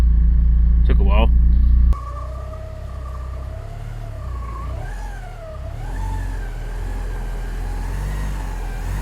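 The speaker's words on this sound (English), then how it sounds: "let's fire this up and see if it moves" A Porsche 944 in bad condition starts up after a brief crank, then idles and revs unevenly up close, engine noise steady and loud with occasional rises in pitch.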